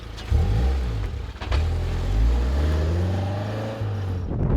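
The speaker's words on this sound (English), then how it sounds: "Lift, turn, little bit of brake, let it rotate, be patient, and then throttle out." An all-wheel-drive car drifting through a turn: engine note rising and falling as it lifts, brakes lightly, then revs hard while throttling out, loud and close with no talk.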